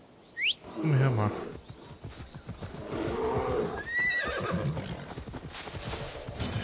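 A horse in the video game Assassin's Creed Odyssey gives a loud, falling whinny near the start, followed by steady clip-clopping hooves while people talk over the game sound.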